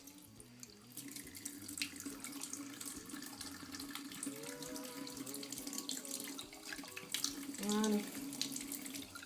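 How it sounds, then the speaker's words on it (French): Tap water runs steadily into a sink to rinse a dirty internal aquarium filter, a soft continuous splashing stream with a brief louder gush near the end and a short word spoken over it. "On va faire couler un peu d'eau pour le nettoyer."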